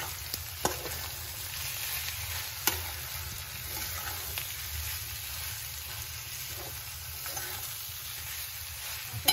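Masala being stirred and mixed in a hot pan for a bread patties recipe, a soft continuous sizzle with occasional spoon scrapes and taps, fairly quiet and without speech.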